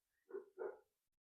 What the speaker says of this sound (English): That was my brother's dog that I'm dog sitting